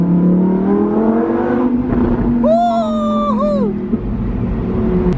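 A loud Lamborghini engine rumbles and revs up with a rising whine, dominating the scene; a faint voice murmurs underneath.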